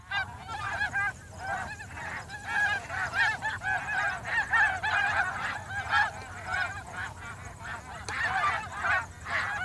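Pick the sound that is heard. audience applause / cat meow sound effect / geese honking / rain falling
geese honking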